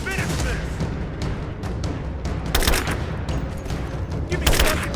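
Dense gunfire from the video game Rise of the Tomb Raider, a steady barrage of rapid overlapping shots and booms with a few louder bursts near the end, while voices shout over the combat.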